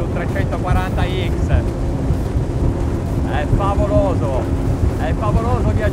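Twin engines of an MTI 390X speedboat running near 5,000 rpm at about 100 mph, a loud steady roar mixed with wind rush and water noise, with voices talking over it.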